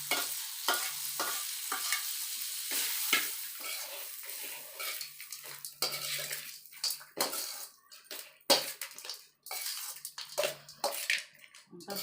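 A spoon scrapes and stirs tempering through lemon rice in a pan, making loud gritty rasps, clanks against the metal and soft sizzling in an uneven rhythm up close.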